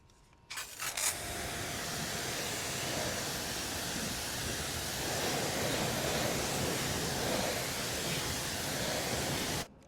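Steady, broad spray of water rinses the wheel rims of a Cadillac Escalade at a car wash, starting with a short burst and then hissing continuously at close range for about nine seconds.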